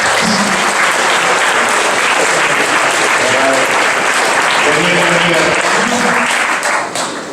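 A crowd claps loudly and continuously at an exhibition opening for painting and sculpture, with a few voices faintly audible in the dense applause before it starts to fade at the very end.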